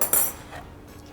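A metal fork clinks sharply against a bowl while stirring a salmon bowl, one bright close scrape followed by fainter rattles, with no one speaking.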